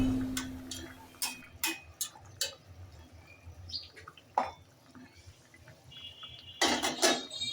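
Fried shol fish pieces are dropped into a simmering pot of beans and potatoes, making a series of sharp plops and metallic clinks. Quieter bubbling follows, then a louder burst of clattering and splashing near the end.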